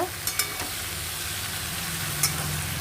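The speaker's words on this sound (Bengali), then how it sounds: "এবার আমি কুন্দ্রিটাও দিয়ে দেব এবার সুন্দর নাড়াচাড়া করে আমি একটু ঢাকা দেব" Ivy gourd stir-fried in a pan gives off a broad, steady sizzle, with a couple of quick spatula knocks at the start and another near the end; no one speaks.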